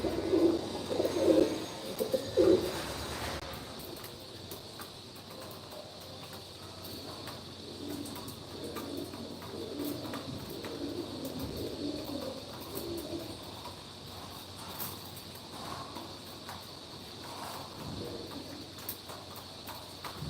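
Mardin pigeons coo softly in low, rolling bursts, clearest near the start, then continue faintly under a steady background of shuffling and rustling nearby.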